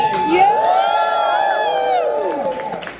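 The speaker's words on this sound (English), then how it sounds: "Now the sort of whooping and cheering you'd give to thank our fire service for the hard work they do." Audience at a live comedy gig whooping and cheering loudly, high sustained whoops and shouts rising and falling over a dense crowd roar for about three seconds, with no speech over it.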